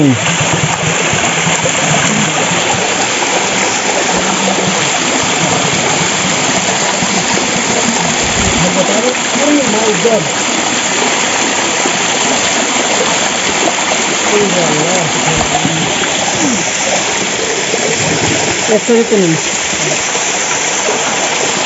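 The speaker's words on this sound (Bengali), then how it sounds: "আলহামদুলিল্লাহ আজকের সেকেন্ড ঝর্ণা" A waterfall of cold water near Shaklam Para roars in a loud, constant rush of splashing water that fills the whole stretch.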